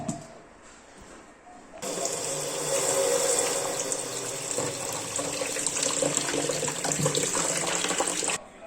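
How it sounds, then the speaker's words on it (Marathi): Running water pours steadily from a tap after a quiet start, with soft handling of fruit under the stream, then cuts off. "आता ह्या कायऱ्या ना छान धुवून घ्यायच्या"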